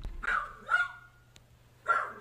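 A dog barks in a fictional horror game setting, two or three sharp, fairly close barks separated by short pauses, with no talking over them.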